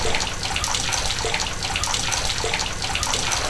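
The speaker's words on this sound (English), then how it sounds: "we've got the water coming up from the floor right now" Mixed hot and cold water pours up from a floor inlet into a simple church baptistry, making a steady, close rushing gush with no pauses and no voices.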